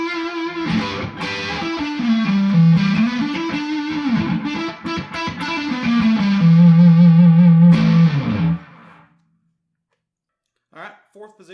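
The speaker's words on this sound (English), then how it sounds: "add a little delay, a little more reverb to it, give it a little more fatness, and do a little lead" Electric guitar lead through S&S Winding bipolar pickups with delay and reverb, a fat, sustained melodic line of bends and held notes playing loud for about eight seconds, then cutting off into near silence with a few faint trailing plucks.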